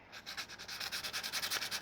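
Rhythmic back-and-forth sanding strokes scrape across a mirror used as a flat sanding block, shaping a lockpick made from a hacksaw blade, steady and fairly quiet, gradually growing a bit stronger.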